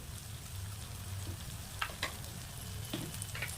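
Hing (asafoetida) dropped into hot oil over gongura chutney sizzles steadily, with a few brief crackles and soft clinks rising over the constant frying hiss.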